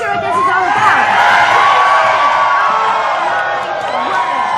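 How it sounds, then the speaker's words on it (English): A large crowd at a live outdoor news scene in Jericho shouts and whoops continuously. A dense, loud wall of overlapping voices holds steady throughout, with no distinct single speaker. "All of a sudden, this crowd is shouting"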